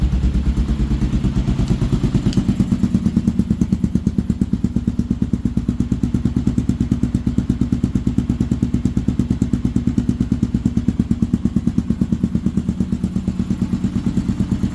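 A Kawasaki KLR650 motorcycle engine runs steadily and close by, a loud, even low thumping pulse that holds constant throughout with no clear rise in pitch.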